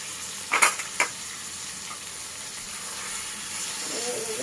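Country chicken meat is added to a pan of ground spice paste frying in oil, with a couple of quick splashing hits early on and then a soft, steady sizzle underneath.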